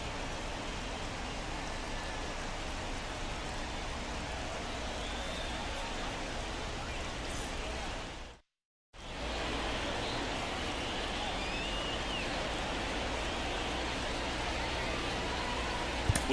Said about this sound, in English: We are officially in a rain delay